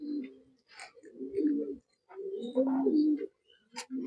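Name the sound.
pigeons cooing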